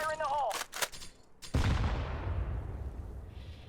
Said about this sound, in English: We're going to throw a grenade at 90 degrees to hear it mainly in the left ear.